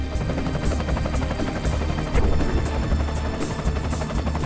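A helicopter over the Amazon jungle thrums loudly and continuously, its rotor chop forming a fast steady pulse with an engine whine throughout and no voices.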